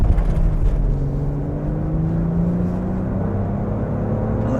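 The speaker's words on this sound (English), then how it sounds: "So you can hear that engine and it sounds pretty good." A 2024 Lexus GX550 Premium Plus engine hums while driving in sport mode, a steady, close low drone with a tone that slowly climbs as the vehicle gathers speed.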